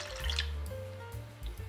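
White vinegar trickles slowly into hot milk, a faint, quiet pouring and dripping sound lasting under two seconds, close by with soft bursts of liquid.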